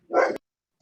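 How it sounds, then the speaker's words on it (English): A single dog bark, loud and fairly close, cuts sharply into silence during an online meeting. A faint brief sound follows near the end. "Sorry about the dog."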